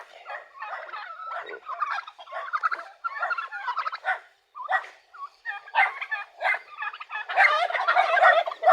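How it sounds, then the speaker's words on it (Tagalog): A flock of turkeys gobbles continuously nearby, overlapping rapid warbling calls that grow louder and denser toward the end. "Mga alagang pabo."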